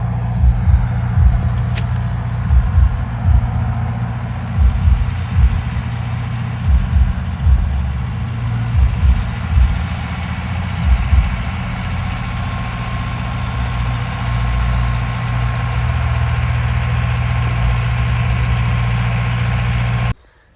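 A tractor engine idles loudly and close by, a steady low rumble with a rhythmic chugging throb that continues throughout before cutting off at the end.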